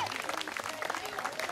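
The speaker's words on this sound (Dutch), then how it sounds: "En een applaus voor dit konijntje" Audience clapping at a bird of prey and owl show during a heritage open day, a short burst of scattered applause from a small crowd outdoors, with a voice faintly audible underneath.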